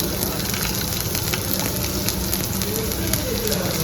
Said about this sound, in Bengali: কড়াইয়ে তেল গরম করতে দিয়ে দিয়েছি তেলটা গরম হয়ে এসেছি প্রথমে আদা রসুন কুচিগুলো দিয়ে দিলাম